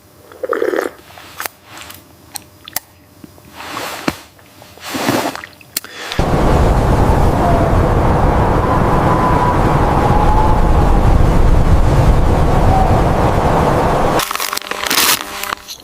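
Peanuts being chewed inside a snow cave during a whiteout blizzard, loud close crunching bites at first, then a sustained roaring rush of wind or noise that swamps everything before brief crunches return at the end.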